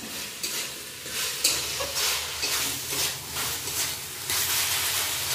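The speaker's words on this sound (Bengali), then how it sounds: "চিনিটা দিয়ে একটু ভালো করে মিশিয়ে নেব।" Sajne shak chorchori with eggplant, potato, urad dal and bori stirred with sugar in a pan: a soft, steady sizzle with rhythmic swishing strokes of a spatula, close and fairly quiet.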